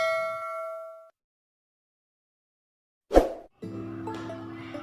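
A bright ding sounds at the start and fades, then after a silent gap a short clang, followed by a sustained tonal chime.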